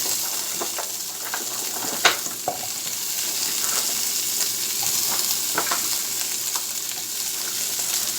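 Cauliflower and other vegetables sizzle steadily in a pan for a chicken stir fry, a constant loud hiss broken by a few sharp crackles and scraping stirs.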